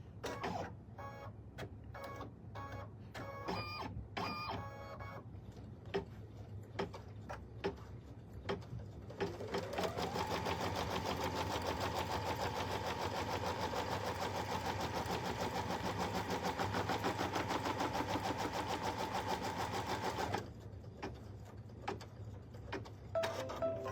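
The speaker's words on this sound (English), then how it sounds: "Just gonna stitch on the top, stitch down the bottom." An in-the-hoop embroidery machine sews a puff foam bag with a steady mechanical whir and rapid needle clatter lasting about ten seconds. Short bursts of stitching and clicks come before it and after it, close by, with no one talking.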